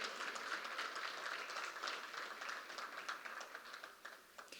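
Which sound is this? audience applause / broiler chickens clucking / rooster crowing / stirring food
audience applause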